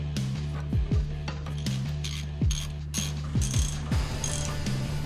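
A hand ratchet clicks rapidly in repeated bursts as the lower strut mounting bolts of a 2005 Mercedes-Benz C230 Kompressor are tightened, loud and close with brief pauses between strokes.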